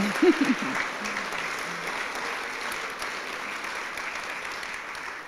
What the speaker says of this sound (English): One more round of applause for the class Starbucks.